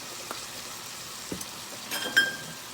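Onions seasoned with salt, pepper and garlic powder sizzle softly in a pan on high heat, with faint frying noise and a few light utensil clicks, with no talk.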